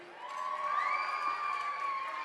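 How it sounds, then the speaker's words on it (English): Crowd cheering and whooping for the bride at a wedding reception, a sustained wash of many voices with high shouts and some clapping, loud and continuous throughout. "Can we get a round of applause for how beautiful the bride looks tonight?"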